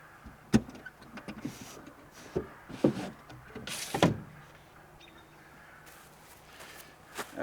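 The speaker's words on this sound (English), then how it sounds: "Now I gotta open the truck window" A truck's power window hums as it opens, the motor whir running quietly for a few seconds between scattered clicks and knocks, with faint outdoor ambience and no talk.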